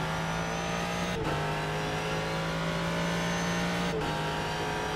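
A Ford GT3 race car in the iRacing game at COTA, engine droning loud and steady as it accelerates, with two quick dips at gear shifts before the pitch climbs again.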